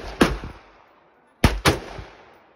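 Three sharp outdoor gunshots from a PSA Jakl rifle: one crack, a pause of about a second, then two quick shots close together, each with a short echoing decay.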